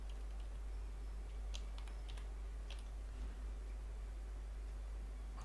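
Computer keyboard typing during network device configuration work, a quiet run of sparse key clicks over steady background hiss, with no talking.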